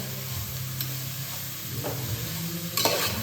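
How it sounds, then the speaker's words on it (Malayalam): Onions being sautéed in oil in a pan for an easy biriyani: a steady, soft sizzle underneath, with a few brief scraping stirs of a spoon and no voices. "ഉള്ളി ഒന്ന് നല്ലോണം ഈ എണ്ണയിലൊന്ന് വഴറ്റിയെടുക്കാം."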